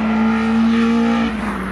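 A Citroen Saxo VTS with Jenvey throttle bodies and 90mm trumpets revs loud and close, its engine tone holding high and steady before dropping sharply as the revs fall away.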